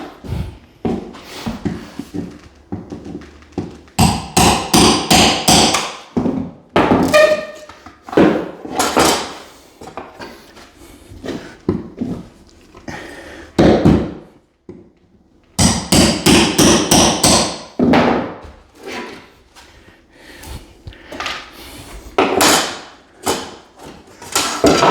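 Hammer working a nail out of a damaged wooden subfloor during a joist-to-joist floor repair: loud, close bursts of rapid knocking and prying scrapes, separated by short pauses.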